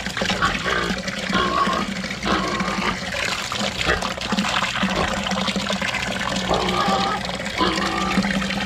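Water from a mountain source running steadily into a container, a continuous splashing gush with a constant hum underneath, with a little talk over it.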